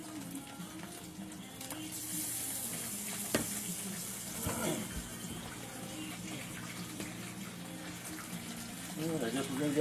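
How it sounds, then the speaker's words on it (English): Battered green tomatoes or zucchini frying in hot oil, a steady bubbling sizzle throughout with occasional louder crackles and stirring clatter, a voice talking quietly over it. "So you can hear that bubbling by now."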